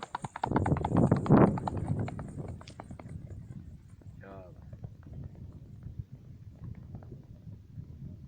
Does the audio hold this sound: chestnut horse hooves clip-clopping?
yes